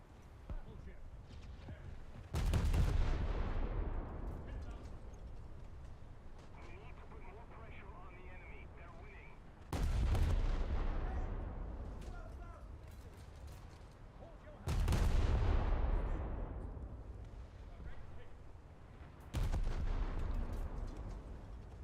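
Naval gunfire in War Thunder: four heavy booming cannon shots spaced several seconds apart, each a loud sudden blast with a long rumbling decay, over a constant low engine-like drone.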